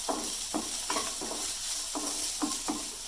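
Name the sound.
sautéing tomato, garlic and coconut in a pan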